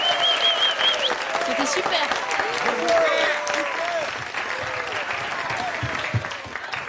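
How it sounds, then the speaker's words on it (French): Applause and cheering from a show audience fill the room for a performer named Florence, steady and loud throughout, with a voice speaking briefly over the clapping. "on applaudit encore bien fort la sublime"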